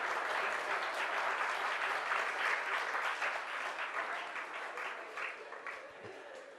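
An audience at a morning satsang yoga gathering applauds in a dense, sustained wash of clapping that stays loud and slowly eases toward the end, without talk.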